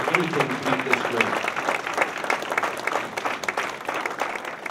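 An audience at the St. Elizabeth's Hall of Fame 2014 ceremony gives a round of applause. The clapping is steady and mid-loud, with a voice briefly audible over it at the start.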